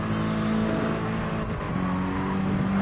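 A Mini Cooper engine revs hard and close in the GT Sport video game, a loud, sustained buzzing drone with a brief dip and a gear change halfway through before climbing again.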